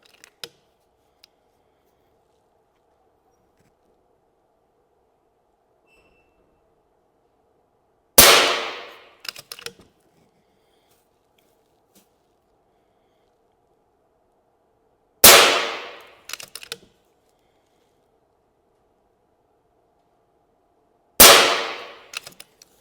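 An FX Panthera air rifle fires three sharp, separate shots at a 50-yard target, each a crisp crack followed by faint ringing and small clicks, with near silence between shots.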